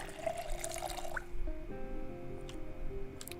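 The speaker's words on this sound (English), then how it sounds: "Let's fill the water." Water filling a container in the video game Project Zomboid, a short trickling, dripping pour that ends abruptly, followed by faint tonal game sounds.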